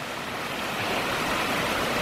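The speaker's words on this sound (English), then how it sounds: "There's another nice little waterfall," A small waterfall beside the Silver Trail at Glendalough, a continuous close splashing rush of falling water, steady and fairly loud with no voices.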